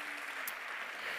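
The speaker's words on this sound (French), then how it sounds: "Vous les applaudissez également, s'il vous plaît." A brief burst of audience applause at an awards ceremony, a dense, even wash of clapping from a crowd heard on its own for just over a second.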